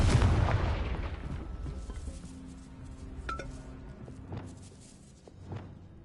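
A Confringo fire spell explodes in Hogwarts Legacy, a heavy blast that booms and then rumbles away, followed by a few sharp clinking and cracking debris hits.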